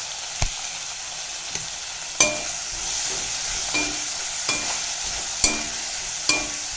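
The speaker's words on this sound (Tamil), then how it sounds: "மஞ்சப்பொடி சேர்த்து வதக்கிக்கலாம்." Sliced bitter gourd sautéing in oil with turmeric powder, a steady bright sizzle broken by several sharp clacks of a spoon against the pan at irregular intervals.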